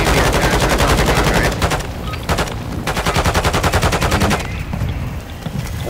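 An MP gun fires in Call of Duty: Modern Warfare II in loud, rapid bursts of automatic shots, one long burst then short pauses and further sustained strings, close and dominant with no talk.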